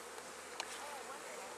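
Honeybees hum in a dense, steady buzz throughout a fall hive inspection, close and continuous at low volume, with one brief sharp click partway through and no speech.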